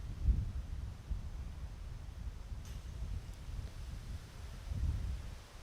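Strong wind gusts across an open disc golf course, a steady low roar buffeting the microphone with louder surges at the start and end, and no voices.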